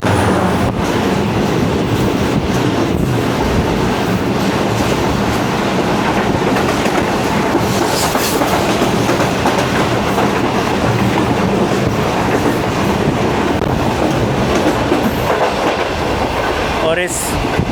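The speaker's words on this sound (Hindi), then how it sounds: "और इस फ्रेट ट्रेन की वजह से आपको झम्पीर स्टेशन पास होता हुआ नहीं दिखा सका" A freight train rolls past on the railway near Jhampir station, a loud continuous rumble with wheel clatter and a brief squeal near the end, a voice faintly heard beneath.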